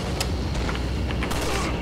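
Rapid gunshots and booming blasts from Resident Evil 4 gameplay, dense and loud throughout, with several sharper cracks standing out against a constant rumbling roar.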